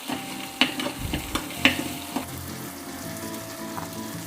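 Curry leaves and onions frying in a pan for sambar rice give a soft continuous sizzle, with a few sharp metallic scrapes and knocks of a spoon stirring in the first half, close and fairly quiet.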